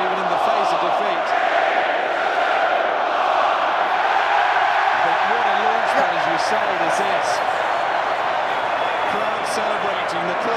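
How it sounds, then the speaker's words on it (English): A rugby stadium crowd at an England vs New Zealand match roars in celebration, a loud steady wall of cheering that holds throughout while a commentator talks over it. "Crowd celebrating"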